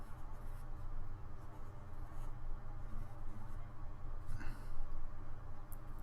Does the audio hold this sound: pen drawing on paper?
yes